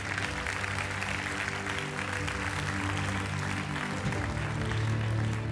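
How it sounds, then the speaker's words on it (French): Audience applause fills a hall at an awards ceremony for business trophies, a dense steady wash of clapping with a low hum or music underneath, continuous and fairly loud throughout. "merci d'applaudir à nouveau Richard Papazoglou et Xavier Delarue"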